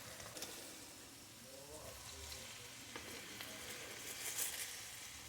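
Cabbage dropped into a hot pan for fried cabbage, a steady close sizzle and crackle of frying with faint stirring, quiet overall, while a voice speaks softly underneath.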